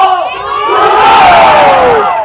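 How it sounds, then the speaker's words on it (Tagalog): A large Filipino crowd at a political rally on EDSA shouts together in one loud, sustained roar that swells and then fades over a couple of seconds. "Pakinggan nyo ang sigaw ng mamamayang Pilipino!"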